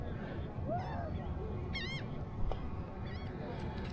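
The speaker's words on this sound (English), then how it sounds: "Splashing around water, seagulls." Seagulls at a beach give several thin, wavering calls, moderately distant, over steady wind and surf noise.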